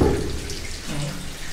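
Water flows and trickles steadily through a 2000-year-old stone channel at the ancient Asklepion site near Kusadasi, a continuous close gurgle with no one talking.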